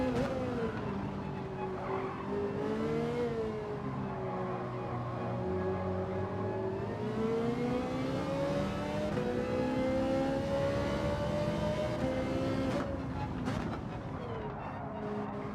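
Porsche race car in Gran Turismo 7 during online lobby racing, its engine droning steadily throughout with rising and falling pitch as it accelerates and shifts, loud and continuous with no pauses.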